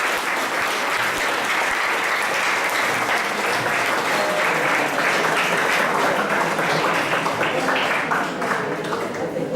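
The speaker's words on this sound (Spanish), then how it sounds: "fuertes los aplausos para el padre Denis" A symposium audience in Santa Cruz applauds a priest, Father Denis. The dense, sustained applause holds steady for nearly ten seconds, loud and close, with no pause.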